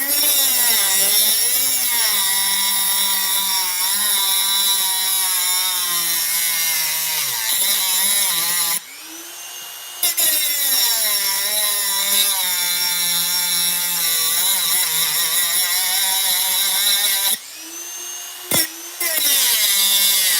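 A tool cuts into a wooden spindle with a steady, loud, whining drone rich in ringing overtones, briefly dropping out twice before resuming, with no talk.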